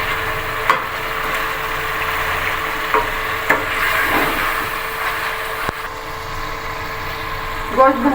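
Meat fries in a pan for sarson ka saag, a steady sizzle with a few soft clanks as it is stirred, continuing without break.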